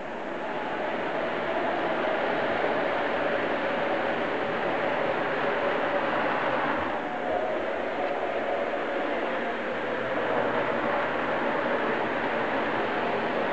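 Model freight train running on a layout's main line, a steady continuous rumble of small wheels on track holding for the whole stretch with no talk.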